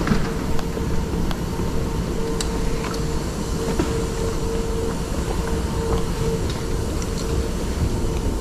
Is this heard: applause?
no